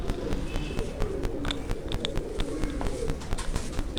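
A pigeon coos faintly and low among soft rustling and wing noise, with scattered light clicks and chirps.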